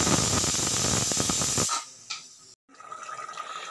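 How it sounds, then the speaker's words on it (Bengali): A pressure cooker cooking papaya curry vents steam in a loud, sustained hissing rush that cuts off abruptly, followed by quieter bubbling and faint hiss. "এবার সিটি উঠবে একটুখানি।"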